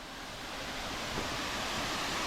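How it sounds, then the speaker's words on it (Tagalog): Ulan Ulan Falls in Sampao, Almeria, Biliran, a steady broadband roar of falling water, continuous and fairly close with no voices. "Ayan ang falls oh."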